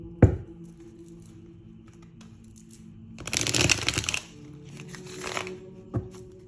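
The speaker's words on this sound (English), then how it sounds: "Do one more shuffle." Tarot cards being shuffled close by, a soft riffling burst in the middle with a few light taps and knocks around it.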